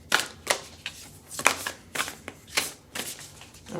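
Oracle cards from a Whispers of Love deck being shuffled by hand nearby, a series of quick papery riffles and flicks in uneven bursts, close and fairly quiet with no talking.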